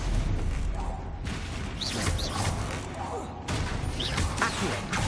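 Repeated magical blast spells from the Hogwarts Legacy video game burst over a busy combat soundscape, several sharp bangs and crackles in quick succession, moderately loud amid rustling game noise.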